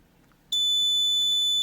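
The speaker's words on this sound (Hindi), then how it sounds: "देखिए, बजर और बल्ब एक्टिवेट हो गए, यानी यह हमें सूचना दे रहा है कि एलपीजी गैस लीक हुई है।" An LPG gas leak detector's buzzer alarm switches on abruptly after a short quiet moment, then holds a loud, piercing continuous high-pitched tone up close.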